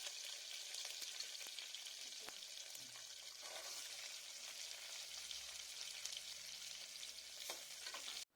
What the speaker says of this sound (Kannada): ಈರುಳ್ಳಿ ತಿಳಿ ಕಂದು ಬಣ್ಣ ಬರುವವರೆಗೂ ನಾವು ಎಣ್ಣೆಯಲ್ಲಿ ಹುರ್ಕೊಳ್ಬೇಕಾಗತ್ತೆ